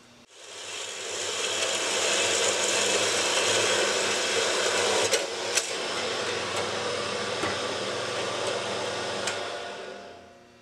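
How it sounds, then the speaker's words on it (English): Do-ALL band saw cutting off a stuck part: a steady, loud whirring cut holding for about ten seconds, with a few brief clicks and ticks partway through and no talk. "I'm going to cut it off with the saw"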